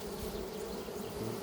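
Honeybees swarm in a dense, steady buzz close at the hive, where a queen bee is being tended by a beekeeper, with the drone holding continuously loud throughout.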